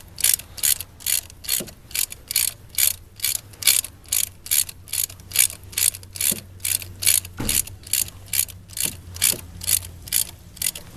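Ratchet wrench tightening a spark plug on a 2011 Ford Fusion, a steady series of close, crisp ratcheting clicks in rhythmic bursts, with a few faint metallic knocks in between.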